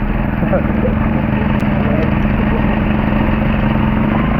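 A motorcycle engine runs steadily at a constant low idle while the rider crosses a flooded street, loud and close throughout, with sloshing water and road noise mixed into the drone.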